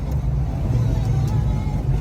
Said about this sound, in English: We're going through all the gears nice and smooth up here